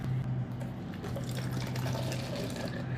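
Milk pours into an iced latte over ice, a steady liquid stream with gurgling and splashing that stays close and continuous throughout, with no talking over it.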